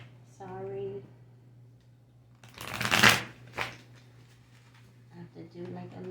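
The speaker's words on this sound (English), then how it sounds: "I have to do like a little shuffle before." A person speaks briefly, then a loud riffle of tarot cards being shuffled, followed by a second short riffle before talking resumes.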